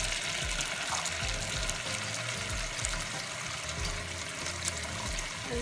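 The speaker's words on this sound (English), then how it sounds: "I'm gonna turn the water on" Tap water runs steadily into a sink while lip gloss tubes are washed, a constant close splashing stream with faint clinks, and no voices.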